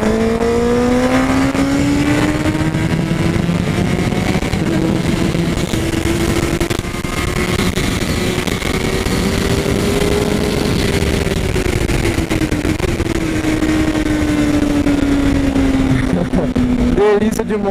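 Honda CBR 1000RR Fireblade motorcycle accelerating hard around the Interlagos circuit, a loud, close engine wail rising and falling in pitch through the gears continuously for over fifteen seconds with wind rush behind it.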